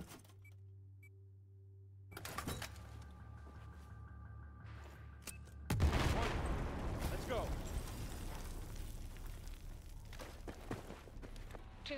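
A grenade explosion in the Battlefield 4 video game bursts out sharply after a quiet stretch, followed by a lingering rumble and scattered battlefield noise.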